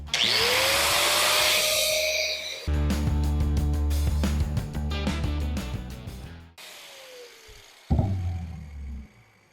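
A cutoff wheel spins up with a rising whine, then grinds and chatters into Mopar A-body frame metal with a harsh buzzing roar before easing off, restarting and winding down, close and loud.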